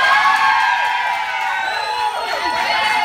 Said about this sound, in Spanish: Y fuerte el aplauso también para Venus Dior.